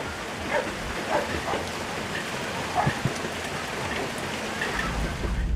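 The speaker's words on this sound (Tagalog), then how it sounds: "It's raining, it's raining." Steady rain falls on a farm in Cebu, a dense even hiss that runs throughout, with faint dog barks scattered underneath.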